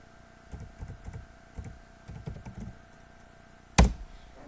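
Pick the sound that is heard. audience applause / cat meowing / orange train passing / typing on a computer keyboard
typing on a computer keyboard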